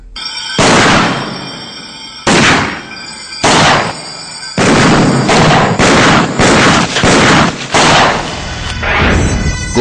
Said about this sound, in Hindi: गोलियां चलती हैं,